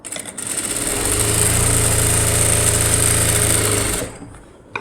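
A sewing machine stitches the front of a princess-cut blouse, a loud fast continuous whirring run of about three seconds that starts up and then winds down.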